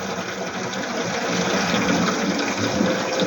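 Fresh water pours in a steady, loud rush while a lavash pie with mushrooms is being assembled, continuous for several seconds, with no one talking.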